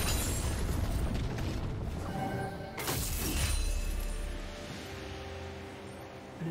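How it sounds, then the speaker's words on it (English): A turret is destroyed in League of Legends with a crashing explosion and a shattering crunch, then a deep boom that fades out beneath the ongoing game noise. "Blue team's turret has been destroyed."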